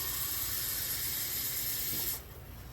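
Water pours steadily into a baking dish of cream of chicken soup for a chicken dressing, a close, bright splashing hiss that runs for about two seconds and then stops.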